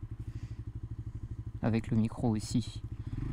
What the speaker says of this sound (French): Je sais pas du tout comment on va rendre le bruit de la moto